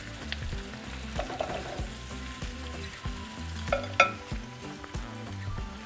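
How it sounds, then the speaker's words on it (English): Carne asada meat fries in a pan for taco filling, a steady crackling sizzle with occasional scrapes and clinks of stirring, close and moderate in level, with no talking. "now we're just going to cook for about 7 minutes until the meat is fully cooked"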